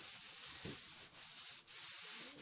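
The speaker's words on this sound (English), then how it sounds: "I like to just rub this in nice and as even as possible" Wood stain being rubbed by hand into a salvaged wood countertop, a steady close scrubbing hiss broken by a few brief pauses, with no talking.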